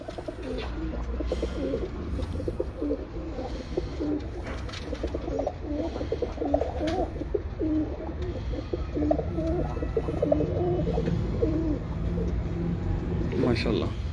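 Breeder pigeons coo repeatedly in low, rolling calls, close and continuous, with someone talking over them.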